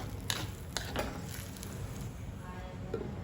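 Chopped tomato is stirred into sautéed onions in a pan for a Kerala-style fish curry, making soft sizzling under a few quick scraping and clinking spoon strokes, close by.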